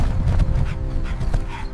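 A pack of African wild dogs on the hunt, heard as a continuous, loud, busy jumble of close canine noises, with yips, whimpers and panting running through the whole stretch with no pause.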